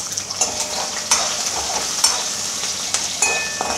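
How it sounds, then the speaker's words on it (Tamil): Chopped onion sautéing in a hot pan for Tamil kara chutney, giving a steady close sizzle broken by a few sharp scrapes and taps of stirring, with no talking. "இது 10 to 20 செகண்ட்ஸ் நல்லா வதங்கட்டும். இப்போ இதில் 1 வெங்காயம் ஆட் பண்ணலாம்."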